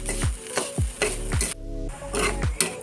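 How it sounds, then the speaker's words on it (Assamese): Grated coconut, sugar and ghee being stirred in a pan, with repeated rhythmic scrapes of a utensil against the pan over a soft sizzle and a low hum. "আস্তে আস্তে লৰাই থাকিব লাগিব আঠা নোহোৱালৈকে"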